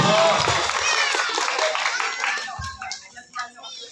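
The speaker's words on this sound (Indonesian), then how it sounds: "Beri tepuk tangan dulu ibu-ibu para guru." Teachers in an audience clap together in a brief burst of applause, with voices mixed in; the clapping fades into scattered talk and a few thumps.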